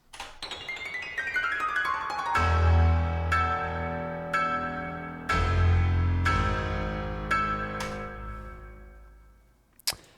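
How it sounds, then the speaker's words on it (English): Rapid descending run of piano notes quantized into triplets, followed by heavy, ringing low chords struck in a repeating triplet pattern that slowly decay. "I just played a whole bunch of keys on the piano descending, and then I just quantized it in triplets."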